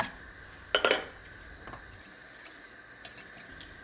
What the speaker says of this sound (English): I'm gonna stir well and continue to boil the mixture.